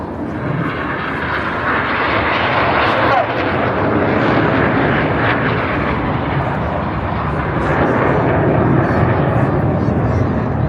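Red Arrows display jets fly past at the Blackpool airshow, a loud, continuous roar of jet engines filling the whole stretch while a commentator talks over it.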